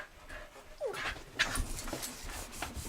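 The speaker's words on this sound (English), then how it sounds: "The puppies is back." Excited puppies panting and whimpering close by indoors, with quick breathy pants, a short whine and scrabbling movement sounds over a few seconds.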